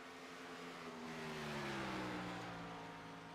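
A race car's engine drones in a steady, fairly distant tone that swells slightly, then drops in pitch as the driver lifts off the throttle.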